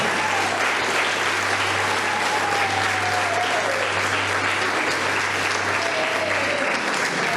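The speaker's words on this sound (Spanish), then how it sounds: "Denle un aplauso a Dios" A church congregation applauds at a 60th-anniversary service, a full, even wash of many hands clapping that holds steady for over seven seconds, with a low electrical hum underneath.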